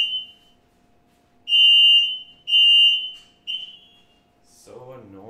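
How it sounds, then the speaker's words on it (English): A building fire alarm sounds during a test, with loud repeated high-pitched electronic beeps in a steady on-off pattern, and a voice speaks briefly at the end. "I don't know why they test the fire alarm."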